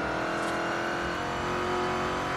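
A car in Forza Horizon 2 races down a highway at about 140, its engine holding a loud, steady high-revving drone throughout, close and alone.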